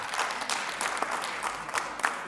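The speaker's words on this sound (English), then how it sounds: "Please let's give him another round of applause" An audience at a professional conference session gives a steady round of applause, a continuous wash of many hands clapping at moderate distance, fairly soft, with no talk over it.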